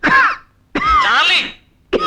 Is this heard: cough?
yes